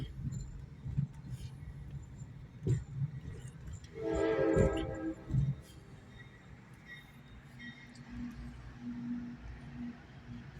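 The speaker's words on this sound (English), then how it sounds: "I'll try to watch the train coming through." A train rumbles nearby in McKeesport, Pennsylvania, with a loud horn blast sounding midway, surrounded by clanks and low mechanical noise.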